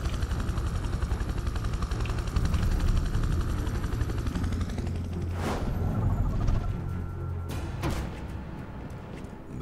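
Helicopter rotor drone in Prototype 2, loud and steady throughout with a continuous low throb, joined by sharp crashing bursts in the later part.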